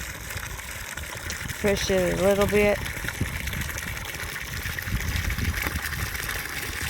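Water runs steadily into a horse trough outdoors as a continuous hiss and gush, with a brief whining tone partway through and someone talking over it.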